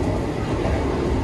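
Inside the dining car of an Argo Dwipangga New Generation train running from Jakarta to Solo, a steady, fairly loud low rumble and rolling noise fills the nearly empty carriage without a break.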